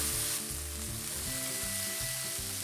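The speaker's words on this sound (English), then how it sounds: "Place the chicken in the oil and let them cook for about 3 minutes." Chicken pieces and mushrooms frying in hot oil in a pan give a steady, close sizzle that runs throughout, with soft music in the background.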